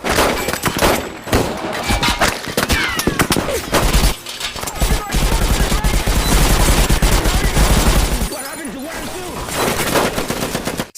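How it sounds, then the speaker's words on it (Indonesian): Rapid bursts of gunfire crackle back and forth between gunmen and Mexican cartel fighters over a dense, loud background with a deep rumble, shots overlapping in quick volleys. "memberikan tembakan balasan menggunakan senjata api"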